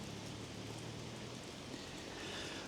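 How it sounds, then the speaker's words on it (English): Rain falls outdoors as a soft, steady hiss of drops, even and fairly faint throughout with no talk. "because I don't want to get too drenched, because she hates the rain"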